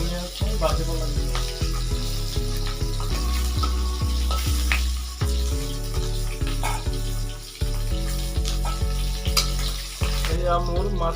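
Bhangon fish sizzles in hot oil in a home kitchen, a dense, continuous frying crackle broken by repeated soft knocks and scrapes as the pieces are turned.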